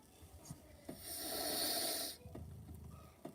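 In a quiet room, a person snores once, a single long raspy breath lasting about a second, faint and set among small rustling sounds.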